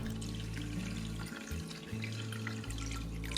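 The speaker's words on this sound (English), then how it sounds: "start by pouring all your ingredients into a bowl and soaking with plenty of water" Water running from a tap into a bowl of dosa ingredients, rice and lentils, for soaking: a continuous close rushing stream with shifting pitch as the bowl fills, briefly dipping before resuming.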